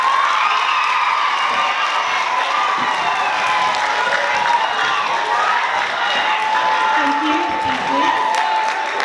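Loud applause and cheering from a school audience of students and teachers at a debate, continuous clapping mixed with shouts and whoops from children, sustained for around nine seconds with crowd voices throughout.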